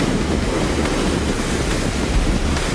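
Big ocean surf breaking continuously at a beach where surfers are out, a loud steady roar of crashing waves mixed with wind buffeting the microphone, with no voices.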